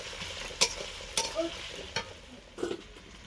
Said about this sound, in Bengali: ওর মধ্যে আমি দিয়ে দিচ্ছি কুচানো পেঁয়াজ, দিয়ে এবারও ভালো করে মশলাটি আমি কষিয়ে নেব